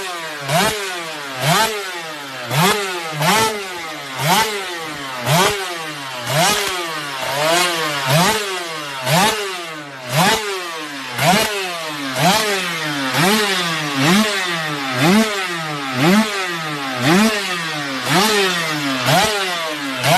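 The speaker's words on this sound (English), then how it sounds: "enjoy the beautiful sound and looks of their last Italian racing beast" A Cagiva 500 two-stroke Grand Prix racing motorcycle screams close by in a rapid series of rising revs and sharp shifts, each surge climbing then snapping back in a steady, repeating rhythm with no talking.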